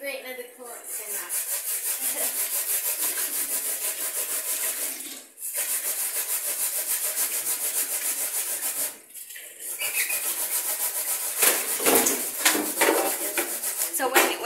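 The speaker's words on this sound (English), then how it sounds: "Now here we're going to grate the coconut." Coconut is grated by hand, giving continuous close, gritty rasping strokes in long sustained runs broken by two brief pauses, with some scattered knocks toward the end.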